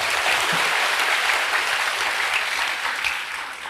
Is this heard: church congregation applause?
yes